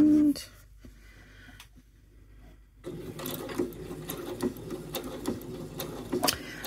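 Sewing machine stitching through a quilt block for a Single Irish Chain pattern, a steady mechanical whirr with light clicks that starts after a quiet pause and runs on close by, alone with no talk.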